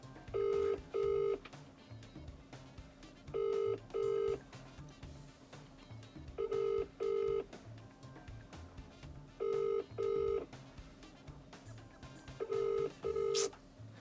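Pairs of electronic tones repeat at steady intervals, a phone ringing out over a low background hum, with no one answering.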